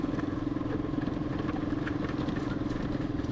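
A new motorcycle's engine drones steadily during a ride, a mid-pitched rumble with wind noise, close and constant with no talk.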